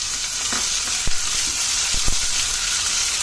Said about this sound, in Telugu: దీంట్లోకి మనం ఆనియన్స్ వేసుకుని ఫ్రై చేసుకుందాము.